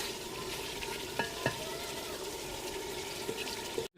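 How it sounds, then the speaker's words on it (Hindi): Chicken and nihari masala frying in oil, stirred steadily with a continuous close sizzle and a few sharp scrapes of the spoon against the pan. "निहारी मसाला और चिकन को इतना भूनेंगे जो ऑयल जो हमने डाला है तेल वो लैदा हो जाएगा"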